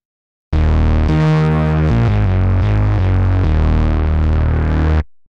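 A thick, buzzy synthesizer patch with wave shaper and drive, gritty distortion, playing a few sustained low notes that shift in pitch, then cutting off cleanly.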